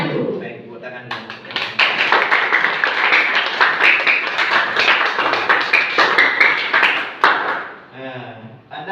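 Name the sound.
students clapping hands in classroom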